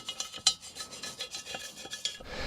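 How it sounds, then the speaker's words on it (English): Brush scrubbing carbon and dirt from the intake of a Kubota excavator engine with degreaser, a quick series of close, rough rasping strokes with no talk. "Get all that carbon out of here."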